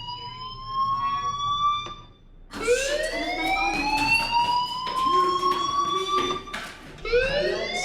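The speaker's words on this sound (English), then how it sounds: "Hey, do you hear that fire alarm?" A fire alarm in a video game wails in loud, rising electronic sweeps that pause briefly and then repeat steadily in the foreground, with no talking.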